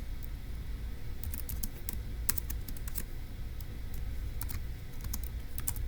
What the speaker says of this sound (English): let's go ahead and type that up in our notes for section A